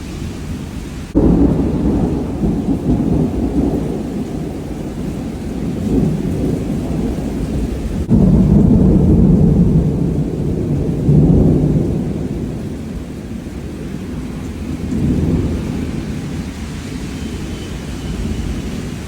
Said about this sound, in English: But it's lightning, that's for sure.